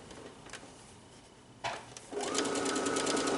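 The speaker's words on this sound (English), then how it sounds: "drop your needle and I'm going to take one more stitch" A home sewing machine runs a short burst of stitching along a raw fabric edge, its fast steady motor whir and needle clatter starting after a brief click and continuing close and loud to the end.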